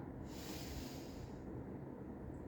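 One slow nasal inhalation during yoga pranayama practice, a breathy hiss heard close up that swells and then fades, with a quiet, steady background hum.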